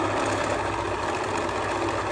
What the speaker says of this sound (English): my sewing machine sounds weird because it's so close to the microphone and it picks it up